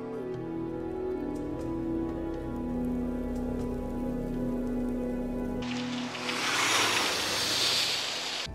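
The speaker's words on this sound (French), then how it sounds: "aujourd'hui comme hier, les précipitations sont abondantes" Heavy rain pours in a dense, loud wash that takes over suddenly after a sustained low droning tone, the downpour hissing steadily and close with no voices.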